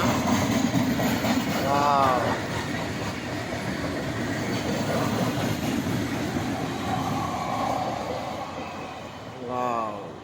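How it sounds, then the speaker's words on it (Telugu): A freight train carrying liquid acid tankers rumbles past close by a small railway station, a steady roar of wheels on rails with rhythmic clatter and occasional squeals, sustained throughout. "ట్రైన్ వెళ్ళిపోతుంది పట్టాల సౌండ్ వచ్చింది"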